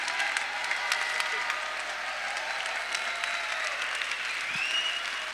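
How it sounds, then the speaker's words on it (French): A May Day rally audience applauds a speaker with steady, sustained clapping from a large crowd, moderately distant and continuous throughout, with no talking. "Et je vous demande d'applaudir Ahmed Laouej, notre président de fédération."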